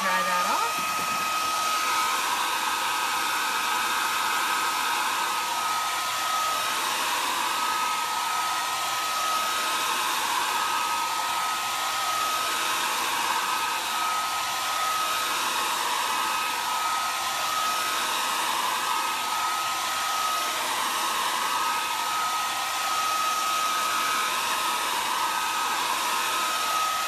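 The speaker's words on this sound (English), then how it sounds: "So I'm just going to apply a little bit of heat to this so that we can dry that off." A handheld heat tool blowing hot air to dry chalk paste on a crafting project, a loud constant whirring hiss with a faint whine, running unbroken and close throughout.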